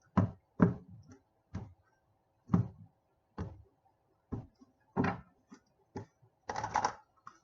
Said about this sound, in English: I'm trying to get a good shuffle on for you guys.